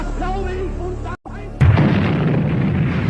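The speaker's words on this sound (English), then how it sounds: "German artillery erupted in a deafening barrage" A WWII artillery barrage: after a spoken passage and a short silence, a dense, loud, continuous rumble of booming gunfire fills the rest of the clip.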